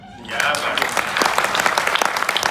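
Loud crowd applause at a kavi sammelan poetry recital of veer ras verse, a dense burst of clapping that swells in early and holds steady across the clip, with some voices mixed in.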